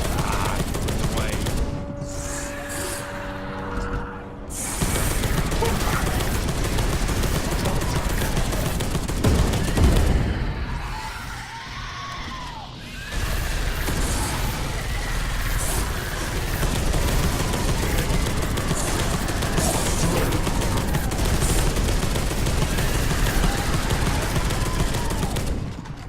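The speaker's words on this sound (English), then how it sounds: "Yeah, that's what that assault cannon does." Assault cannon in the video game Warhammer 40,000: Space Hulk Deathwing, firing loud, sustained rapid bursts of heavy gunfire that rattle on for long stretches with short pauses, while voices talk over the combat.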